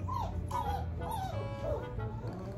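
A hefty puppy whimpers in a series of four or five high, wavering whines, close and clear over a low hum.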